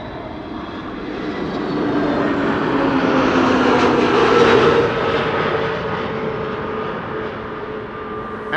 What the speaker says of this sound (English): Emirates A380.